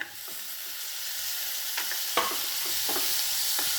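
Finely chopped tomatoes sauté in a pan with browned onions, a steady close sizzle broken by several scraping stirs of a utensil against the pan, with no talking.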